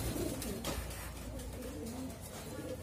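Racing pigeons coo in a loft, soft low rolling coos close by under a steady background hum.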